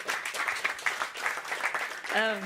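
Audience applause for a speaker at a beer festival event, uneven clapping with a voice starting to speak near the end.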